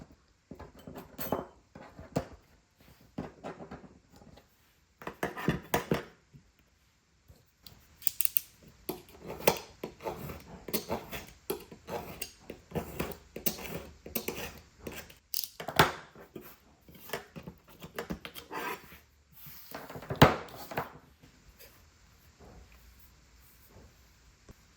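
Scissors cutting the corners off paper for a book-cover jig, close crisp snips in uneven bursts with short pauses between them, plus small handling clicks.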